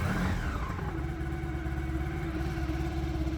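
A Honda ST1100 motorcycle engine running just after an oil change with the choke on in neutral, a steady low mechanical drone with a rough throbbing idle, close and continuous, no voices over it.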